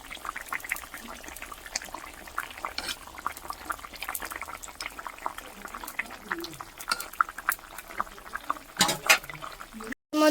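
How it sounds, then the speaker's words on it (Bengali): Chopped onion frying in oil in a home kitchen pan: a steady crackling sizzle with occasional stirring clatter, running underneath a person talking throughout. "পেঁয়াজ কুচিটা একটু ভালো করে ভেজে নেব"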